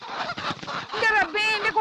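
Chickens squawking and clucking in close, agitated bursts, left over from a poultry seller's day, with a voice mixed in.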